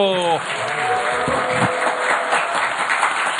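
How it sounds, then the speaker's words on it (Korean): A studio audience at a Korean talk show claps to welcome National Assembly member Kim Jong-dae, giving steady, dense applause after a brief voice at the start. "여러분 큰 박수로 맞아주십시오."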